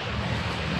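Steady rushing wash of a river flowing nearby in the early morning, a soft continuous broadband roar with no breaks or voices.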